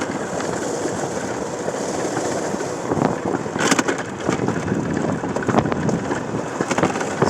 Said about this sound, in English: We do got a little bit of wind